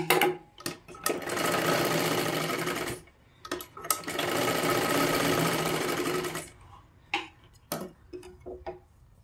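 A sewing machine double-stitching a tuck on a katori blouse, two sustained runs of fast even whirring stitches up close, separated and followed by clicks and handling noises.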